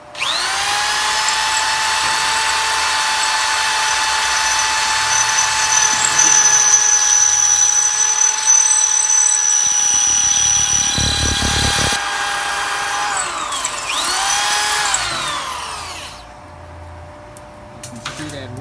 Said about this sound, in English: The drill size we are using here is a 1/4 inch.